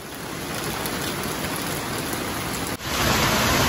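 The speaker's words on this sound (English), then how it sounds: "It's raining a lot." Heavy rain pours down on Cape Cod in extreme weather, a dense, steady hiss growing even louder near the end; no voices.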